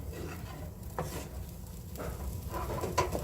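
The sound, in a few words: stirring asparagus and sausages in a pan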